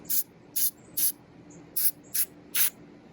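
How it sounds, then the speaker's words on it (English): Orange spray paint on a flower crown headdress, six short hissing bursts from the can, evenly spaced and close. "I'm just gonna spray this one with a little bit more of the orange."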